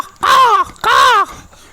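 A man imitates a crow's caw with his voice and no mouthpiece, giving two loud, harsh, close caws separated by a short pause.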